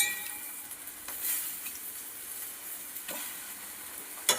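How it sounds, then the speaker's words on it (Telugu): Eggs frying in a garlic masala for egg garlic curry give off a quiet, steady sizzle, with occasional soft scrapes and clicks of stirring and a small utensil tap at the end; no voices. "ఇది ఒక 2 మినిట్స్ ఫ్రై చేసి ఎగ్స్ యాడ్ చేసేసుకోవచ్చు"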